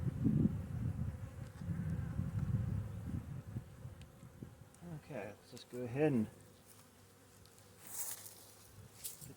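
A low, droning buzz of many honeybees during a March hive inspection hums throughout, with someone speaking briefly over it partway through.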